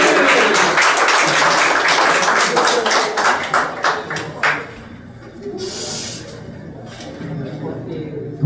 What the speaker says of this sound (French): alors on a beaucoup applaudi.